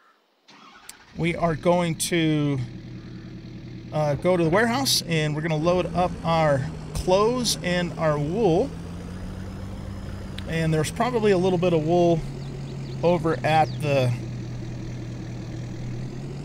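A pickup truck engine in the farming game Farming Simulator 22 starts and then idles steadily under continuous talk from a narrator.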